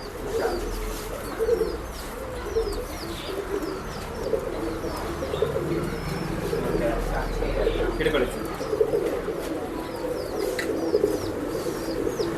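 Male Dhuma regdar pigeons coo steadily in low, rolling calls throughout, with faint chirps and occasional wing flaps in a busy loft and people talking quietly in the background.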